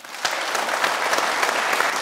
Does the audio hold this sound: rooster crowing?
no